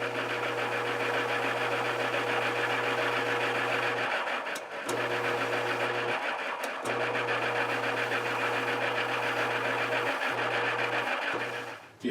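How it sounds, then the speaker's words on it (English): Sander shaping a guitar nut, a steady motor hum with a grinding buzz that breaks off briefly a few times as the workpiece is pressed and lifted. "And we're going to cut that on the outside of the sander here."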